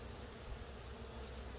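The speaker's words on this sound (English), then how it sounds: "I'm going to go and shake all these bees off in the weeds over here" Honeybees drone steadily around a hive frame bearing a queen cell in a laying-worker colony, a close, continuous swarm buzz with no break.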